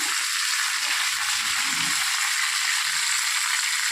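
Dried red chillies and curry leaves fry in hot oil as a tempering for a gongura tomato curry, giving a steady, close hiss and crackle with no talk.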